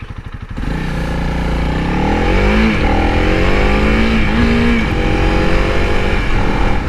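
Honda CRF300L motorcycle with a six-speed gearbox riding on the street, its engine note loud and close, rising in pitch through several revving pulls as it accelerates.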